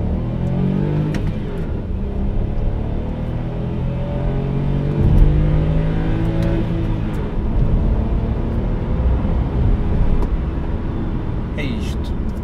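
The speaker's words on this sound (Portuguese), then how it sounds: "vamos ouvir o barulho do 3 cilindros" A Hyundai Kauai 1.0 three-cylinder turbo engine revs up and down repeatedly, a steady loud rumble with rising and falling pitch, while a person talks over it now and then.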